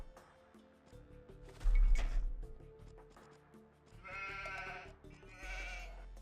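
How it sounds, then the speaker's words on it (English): Sheep in the Age of Empires II video game give two short, bright bleats over quiet game ambience and background music. "Oh, the sheep are over here instead."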